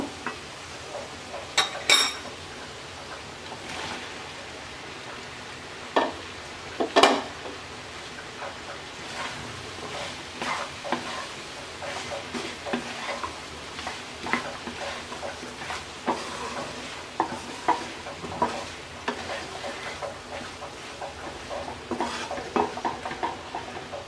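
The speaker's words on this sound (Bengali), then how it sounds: "এবার আমরা পেঁপেটা দিয়ে 5 মিনিট কষিয়ে নেব" Papaya and chickpea lentils being stir-fried in a pan, with quiet scraping and stirring, occasional clinks of a spoon against the metal, and a faint sizzle underneath, intermittent and close.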